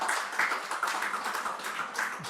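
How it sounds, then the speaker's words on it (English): A conference audience gives a short round of clapping, a busy patter of many hands at moderate volume with no voices over it. "Let's give her a very big round of applause"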